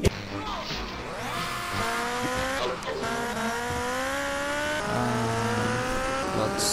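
Vehicle engine roaring and revving steadily while riding a motorbike through GTA Vice City, with rising and shifting engine tones, tire squeal and skids, loud and continuous throughout.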